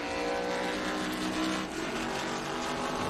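Vintage race cars, including a Porsche and a Corvette Roadster, roar steadily around the Indianapolis Motor Speedway during an SVRA race, a dense, continuous engine drone that swells briefly midway.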